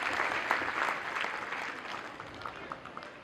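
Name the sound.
audience applause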